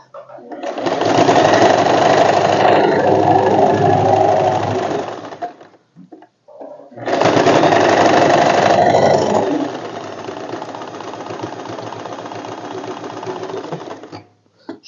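A sewing machine stitching an elastic fitted bed sheet runs in two long, loud whirring bursts separated by a short pause. The second burst trails off into a softer, slower hum, and a voice speaks over parts of it.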